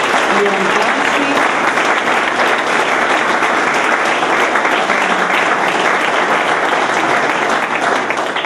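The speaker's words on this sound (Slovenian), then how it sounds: "zato zanj še večji aplavz" Audience at a sports awards ceremony in Ravne na Koroškem giving sustained, loud, even applause from many hands, with crowd voices faintly mixed underneath throughout.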